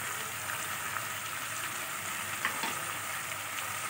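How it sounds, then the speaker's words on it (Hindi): Meat browns in a pan with onions, ginger and garlic for paalak gosht, a steady, close crackling sizzle with small pops scattered throughout and no talking. "पाँच मिनट के लिए हम प्याज में गोश्त को भूनेंगे।"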